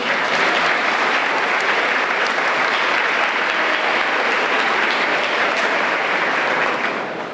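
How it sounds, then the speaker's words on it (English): An audience at a school district ceremony honoring Texas Scholars breaks into sustained, even applause, many hands clapping loudly and continuously before the sound tapers off at the end. "Please give them a round of applause."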